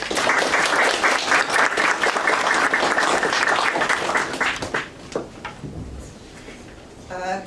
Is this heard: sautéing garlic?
no